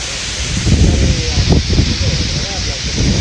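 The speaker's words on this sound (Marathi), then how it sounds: "खतरनाक वारा सुटलाय" Strong wind gusting outdoors in a village, buffeting the microphone with low rumbling bursts and a broad hiss, while a voice speaks briefly over it.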